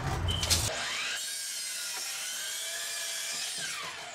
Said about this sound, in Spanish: Y ya la voy a cortar a la medida que es.